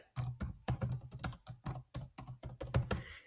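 A computer keyboard clatters with quick, irregular bursts of keystrokes at close range, clear and dry with short gaps between clusters, as a name is typed in.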